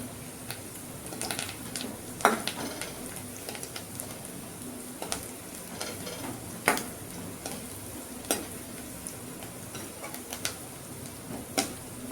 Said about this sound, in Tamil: வெங்காயம் நல்லா வணங்கிடுச்சு